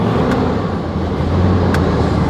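An abandoned limousine's engine runs roughly after starting, a steady loud low rumble with a couple of brief higher clicks, no voices.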